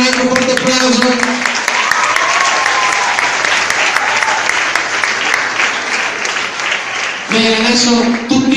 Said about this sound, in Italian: Sam e Jay, un altro forte applauso.